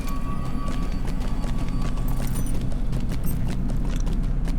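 Hooves of a goat mount clip-clop steadily in the LOTRO game, a continuous rhythmic trotting over a low rumbling game ambience, with a faint tonal hum partway through.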